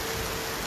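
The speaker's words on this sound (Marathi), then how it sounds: "Oh my God it's very heavy rain." Heavy rain pours down at Dubai Parks and Resorts near Legoland Dubai, a brief, dense hiss of water striking surfaces with no voices.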